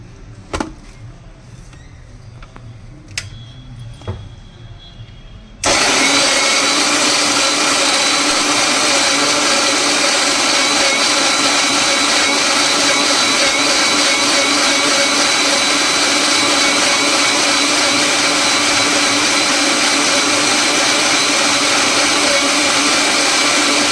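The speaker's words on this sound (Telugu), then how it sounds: "సో ఇలా క్లోజ్ చేసి ఇలాగ బ్లెండ్ చేసుకోవాలి" A kitchen blender whirs loudly while mixing a biotin drink for hair and skin. A few light clicks and taps come first, then the motor starts abruptly and runs steadily at full volume without pause to the end.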